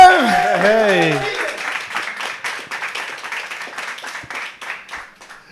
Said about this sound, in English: they're already clapping